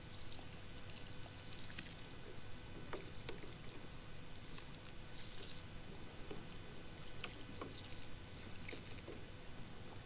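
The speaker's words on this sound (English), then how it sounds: "So we're just going to water this with biokelp." Biokelp solution is poured over potted pansies, a faint, continuous trickle of water splashing onto soil for the whole stretch, with no talking.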